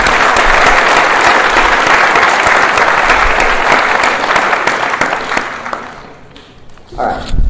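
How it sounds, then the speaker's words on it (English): A high school gym or auditorium audience at a National Honor Society induction ceremony claps loudly and continuously, the applause gradually thinning and fading out near the end before a brief bump of noise. "let's give everyone one round of applause."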